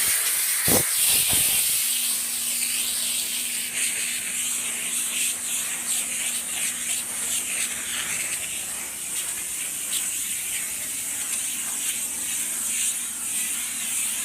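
A Chief Steamer 125 PSI steam cleaner sprays into the crevices of a car emblem with a continuous, close, breathy hiss, joined for several seconds by a faint steady hum.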